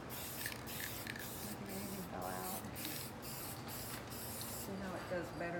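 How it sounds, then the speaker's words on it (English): Repeated hissing bursts of an aerosol spray paint can, short sprays in a loose rhythm, close up, with people talking quietly underneath. "Sometimes the cans don't spray with the paint."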